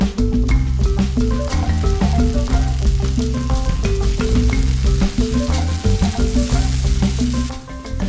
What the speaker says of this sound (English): Then drop carefully into the hot oil.